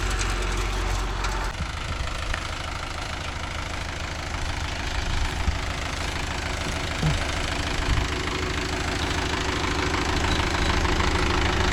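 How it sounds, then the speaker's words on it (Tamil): Mahindra Yuvo Tech Plus 585 4WD tractor running a rotavator in a field, its chain drive clattering and knocking continuously over the loud, steady engine drone, close up with no talk. "இந்த பக்கம் வந்து செயின் டிரைவ் பக்கம் கறக்காம கத்திக்கிட்டே தான் இருக்குது செயின் சவுண்டு"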